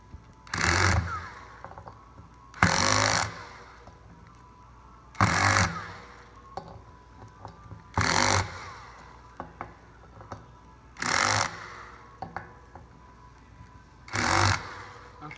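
A power tool tightening the axle hardware on a 500W geared hub motor to final torque: six short, loud mechanical bursts come at a regular rhythm about every three seconds, with quiet gaps and faint clicks between them.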